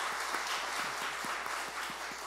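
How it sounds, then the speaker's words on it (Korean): Church congregation applauding young people, a soft, steady wash of clapping with no voices over it. "우리 같이 박수로 한번 청년들 한번 격려 한번 하겠습니다"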